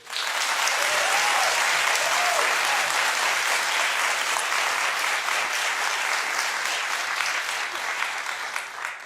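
Sustained applause from a studio audience at a daytime talk show, full and close, with a faint voice or whoop early on, easing slightly toward the end.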